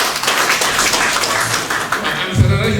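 Audience applause at a cooperative meeting opening ceremony, a continuous wash of clapping running the whole time, with a brief voice or bump near the end.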